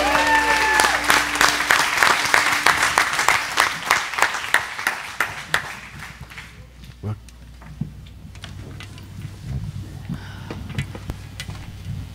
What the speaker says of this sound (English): Why don't y'all give him a loud hand clap?